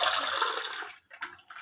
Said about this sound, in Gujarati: અડધા ગ્લાસ જેટલું આપણે પાણી લઈ લઈશું